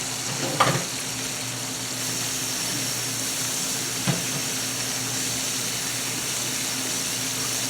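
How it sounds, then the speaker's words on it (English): Catfish frying in oil in a pan: steady sizzling and crackling, continuous and close, with a couple of brief louder pops early on and no talking. "That fish frying up pretty good"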